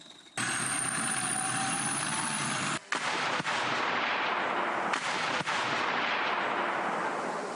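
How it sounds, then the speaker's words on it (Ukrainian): A 2S1 Gvozdika self-propelled howitzer firing 122 mm shells at a training range, loud sustained roaring blasts with a sharp break and reverberating rumble, close and overwhelming. "на полігон заїжджають самохідні артилерійські установки із квітковою назвою Гвоздика"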